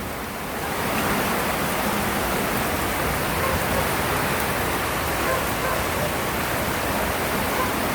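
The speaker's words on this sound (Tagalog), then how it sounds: "Lakas, ang lakas ng agos mga kawiks." A strong, steady roar of a flooding river in Montalban, Rizal fills the whole stretch, loud and continuous after a slightly quieter first second.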